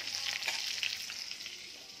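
Food frying in a pan gives a steady, fairly soft hiss of sizzling oil, continuous for the whole stretch, with no voices.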